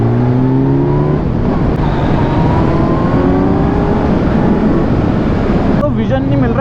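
A Kawasaki Z900 motorcycle on a midnight road ride drones steadily throughout, its engine note climbing and shifting as it accelerates, with loud, continuous wind and road roar close to the rider.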